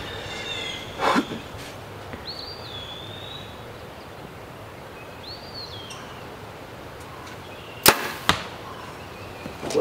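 A compound bow built for elk hunting shoots fletched field point arrows into a target outdoors in the wind, giving two sharp snapping shots with short thuds, and faint bird chirps in between.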